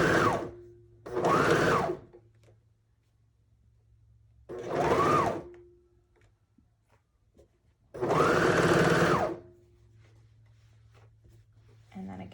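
A sewing machine stitches through layered fabric and straps in four separate runs of about one to two seconds each, loud and close, with steady motor whir between pauses.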